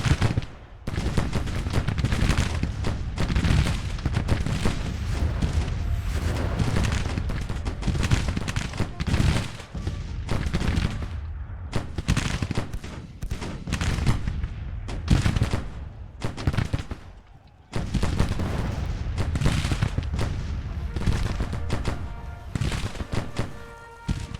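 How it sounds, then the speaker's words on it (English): Civil War–era artillery in the game Grand Tactician: The Civil War booms in a dense, continuous barrage, heavy cannon blasts overlapping with crackling musketry and brief lulls throughout. "Taking a lot of casualties from this artillery."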